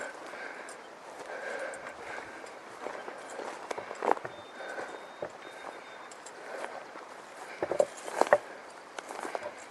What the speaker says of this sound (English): Easy enough walking